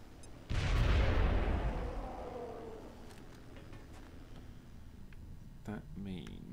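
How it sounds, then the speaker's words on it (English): A grenade explosion in the turn-based strategy game XCOM Enemy Within, heard as one loud, close boom that fades slowly over a couple of seconds, followed by faint clicks and quiet game sounds. "Might as well just grenade that dude, I think."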